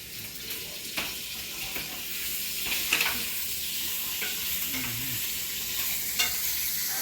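Bacon sizzles in a frying pan while cooking for a keto bacon and green bean casserole, a steady close crackle broken by occasional scrapes and clicks of stirring, with a brief faint voice in the background.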